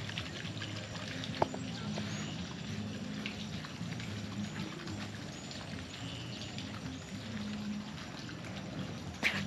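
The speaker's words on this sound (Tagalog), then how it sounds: "Kung naririnig nyo yung linya nila ng tubig dito, parang free flow siya," Water runs steadily down from the forest near a beach campsite, a faint continuous wash and trickle with a couple of small sharp ticks.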